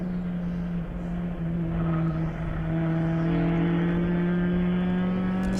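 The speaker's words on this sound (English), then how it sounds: "Hear the tires squeal" Race car at the Sebring ChampCar endurance race on a bumpy track, engine droning loud and steady with sustained high tonal whine from the tires squealing through a corner, heard close from onboard with no voices.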